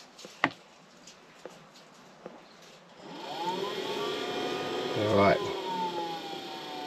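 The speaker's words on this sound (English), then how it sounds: "we're firing up. It's trying to fire up. I can hear the diesel pump clicking." A diesel air heater starts up with its fuel pump ticking, a few sharp clicks at first, then a steady rising whir and hum of the heater firing and its fan blowing, growing louder, with brief speech over it.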